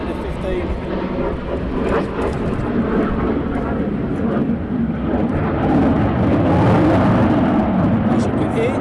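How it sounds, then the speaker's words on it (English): An F-15 fighter jet roars overhead near Lakenheath, a loud, continuous rumbling wash that swells slightly toward the end, with a person speaking over it. "And over the top of us, we have the F15."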